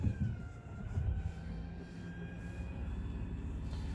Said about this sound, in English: So when I extend it, I do want to make sure the awning is going to clear the door.